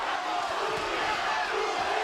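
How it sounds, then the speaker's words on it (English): Boxing crowd at the StubHub Center in a Matthysse vs. Molina fight, a dense sustained roar of voices chanting Molina, loud and steady throughout with no individual words standing out. "Just past the halfway point of round 6, the crowd chanting Molina."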